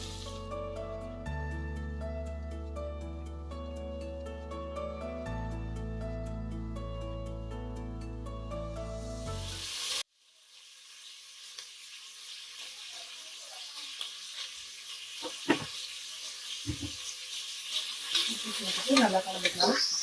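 Chopped onions and green chillies frying in oil in a pan for a rice dish, a steady close hiss of sizzling with occasional stirring clicks, coming in after about ten seconds of music.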